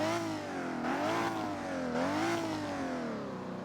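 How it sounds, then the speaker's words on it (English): A Toyota Supra engine revs in Driving Empire, two rising and falling surges close and loud over a steady engine tone, with no talk. "Let's give it a couple of revs."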